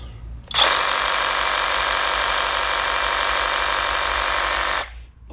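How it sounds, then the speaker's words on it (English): A compact Sawzall reciprocating saw running on a DeWalt 20V battery through a Hercules adapter buzzes loudly and steadily for about four seconds, starting and stopping abruptly with no talk. "And then this is the compact Sawzall."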